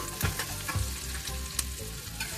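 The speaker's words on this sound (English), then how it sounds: "Let's saute the onion for about 1 or 2 minutes" Onion sautéing in a pan for pork goulash, a steady close sizzle and crackle with a few soft stirring knocks, no voices.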